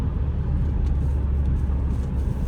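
A Renault Megane 4 GT Line with automatic gearbox driving, heard from inside as a steady low engine and road rumble, even and fairly loud throughout.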